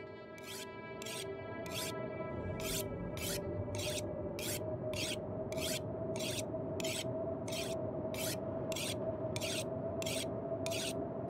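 Repeated rasping strokes of a tool being sharpened in The Long Dark survival video game, a regular series of short scrapes over a faint steady wind-like background.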